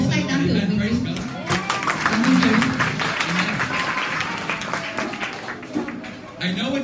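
An audience at a church gathering claps and applauds in a sustained burst of scattered hand claps, with voices speaking over the crowd.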